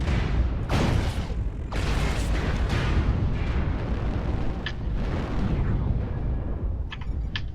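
Artillery or air strike explosions in the MechWarrior Online video game roar as dense, heavy booming rumbles that overlap continuously, with a few sharp metallic clicks near the end.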